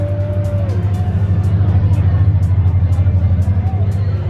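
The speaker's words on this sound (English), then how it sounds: "Apollo IE coming through" Apollo IE hypercar passing at Monterey Car Week, a loud steady engine roar with a low droning note that holds throughout, with crowd chatter and other car noise mixed in.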